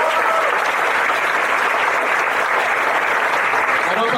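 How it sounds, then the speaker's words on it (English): Steady, dense applause from a crowd, holding at a constant loud level throughout with no voices standing out. "Shall we give all these people a warm round of applause?"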